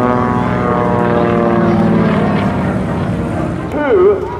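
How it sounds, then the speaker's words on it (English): A Skytypers airshow plane with a big 500 horsepower Pratt radial engine drones loudly overhead, a steady propeller roar with the pitch sliding near the end, heard at an evening airshow at NAS Willow Grove. "putting that big 500 horsepower Pratt wind engine back pointed to the earth"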